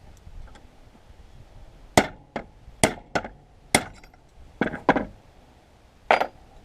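A hammer drives a small punch against a survival knife, about eight sharp metallic strikes spaced irregularly over several seconds, close and crisp over a quiet background with no voices.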